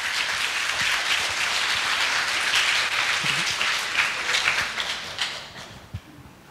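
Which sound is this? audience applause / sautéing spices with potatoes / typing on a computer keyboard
audience applause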